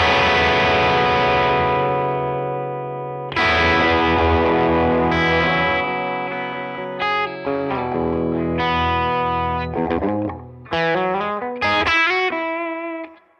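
Distorted electric guitar played clean through a bypassed treble boost pedal, strummed chords ringing out then shorter picked notes and chord stabs, loud and alone with no talking.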